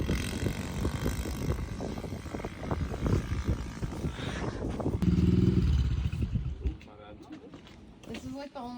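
A Kawasaki KX100 dirt bike revving and pulling away as the rider shifts up a gear, its engine buzzing loud and close with wind buffeting the mic, while people talk over it.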